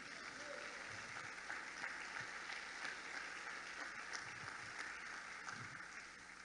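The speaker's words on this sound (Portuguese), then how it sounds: "Vamos aplaudir e glorificar?" A church congregation applauds together in a steady, dense wash of clapping that holds at an even level throughout, with murmured voices faintly mixed beneath it.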